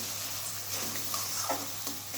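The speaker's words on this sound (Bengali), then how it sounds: "এই মশলাগুলোকে আমি ভালোভাবে আবার কষিয়ে নিচ্ছি।" Spice masala for mutton curry, loosened with a splash of warm water, is stir-fried in a pan, giving a moderate bubbling sizzle with scattered scraping strokes from the stirring.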